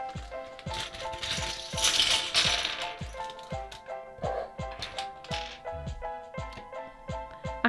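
Plastic toy plates, bowls and cups from a panda-themed dice game clatter and tap together in a steady run of light, hollow knocks and rattles, close up.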